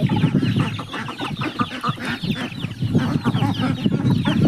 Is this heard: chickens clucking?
yes